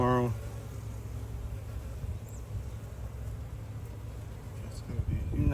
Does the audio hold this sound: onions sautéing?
no